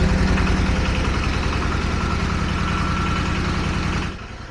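Walk-behind tractor with a diesel engine driving a 220V generator, running steadily and loud with a dense, even chugging drone close by, easing off slightly in the last half second.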